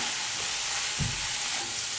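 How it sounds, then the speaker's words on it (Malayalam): Potato and bean mezhukkupuratti sizzles steadily in a pan, a constant loud frying hiss with a dull scrape of stirring about midway, close up and without speech. "തുറന്നു നോക്കി ഇളക്കി കൊടുക്കണം."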